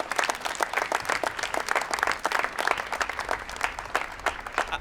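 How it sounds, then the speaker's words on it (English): An outdoor crowd claps at a pride flag raising, a brisk, uneven patter of many hands at moderate volume that carries on steadily without talk over it. "So how about a round of applause for them?"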